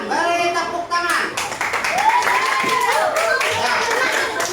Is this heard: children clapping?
yes